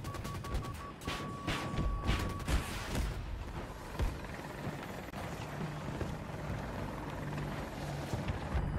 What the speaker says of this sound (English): I've got a helo!